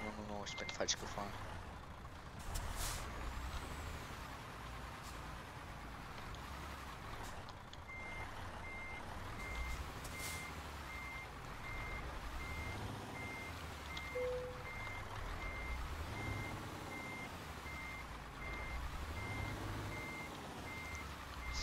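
In Euro Truck Simulator 2, a truck being parked emits steady repeating reversing beeps over a low engine rumble, with a hiss of air brakes early on and someone talking throughout.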